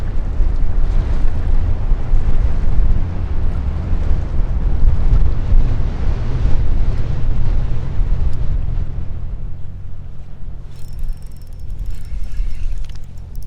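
Strong gusty wind buffets the microphone on a river during spring walleye fishing, a loud continuous low roar that eases slightly toward the end.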